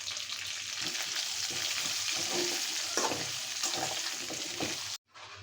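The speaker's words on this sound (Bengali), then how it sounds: "এই তেলেই আমি আলুগুলো ভেজে নেব।" Potatoes fry in hot oil in a home kitchen pan with salt and turmeric added, giving a loud continuous sizzle with stirring scrapes, close up, briefly cutting out near the end.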